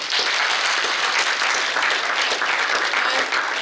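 An audience at a technology conference talk claps, giving dense, sustained applause that holds at an even level throughout, with no speech over it.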